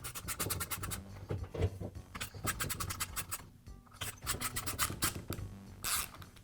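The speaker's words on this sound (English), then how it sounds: "I'll use an Allen wrench to loosen the screws." An Allen wrench loosens the screws on the shoe of a Milwaukee reciprocating saw, making quiet, close rapid scratching and ratcheting metal scrapes in steady bursts.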